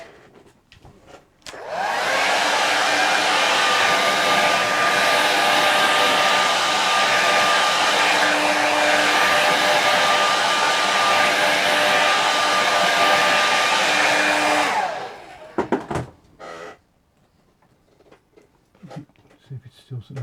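A hair dryer blows on a watercolour painting of misty mountains. A loud, steady close-up roar runs for about thirteen seconds, then clicks off, followed by quiet handling sounds and brief talking.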